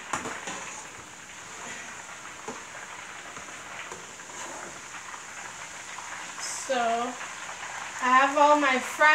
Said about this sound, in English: I just need it to just put in the oil and then take it out.